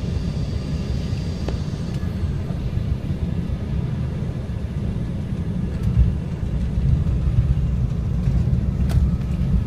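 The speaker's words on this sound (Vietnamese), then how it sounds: "Phi cơ bắt đầu xuống chạm đất." Airliner landing and touching down at an airport in Kentucky, heard from inside as a steady, loud low rumble of engines and runway roll with a few faint knocks.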